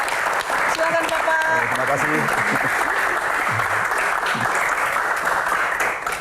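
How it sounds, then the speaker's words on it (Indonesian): A studio audience applauds a guest on a televised Q&A, sustained clapping throughout, with a host's voice speaking over the start of it. "Oke, kita berikan tepuk tangan untuk Panglima Mudik kita"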